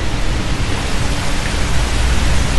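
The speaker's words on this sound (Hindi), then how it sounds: "धीमी धीमी बारिश हो रही है" Steady, soft wash of light rain falling in Franklin Lakes, New Jersey, a continuous even hiss with no distinct drops and no voices.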